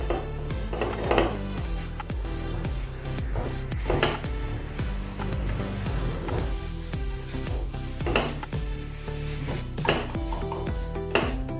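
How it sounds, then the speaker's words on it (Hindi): Besan (gram flour) roasting in a pan over a low gas flame, a spoon steadily stirring and scraping with repeated metallic clinks against the pan, close and continuous. "इसको भी हम अच्छे से भून लेंगे 2 मिनट तक, कम गैस के ऊपर।"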